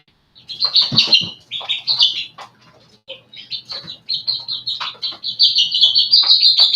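Poultry on a small homestead chirp continuously and loudly, with high, overlapping peeps in quick bursts that build into a steady chorus near the listener.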